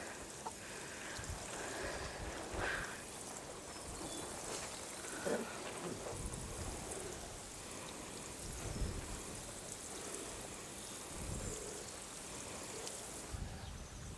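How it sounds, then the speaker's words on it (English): Water sprinkled over a newly sown garden bed where nasturtiums have just gone in: a steady, hissing patter of spray falling on soil and plants, continuous and fairly near, with no talking. "Just give it all a good water."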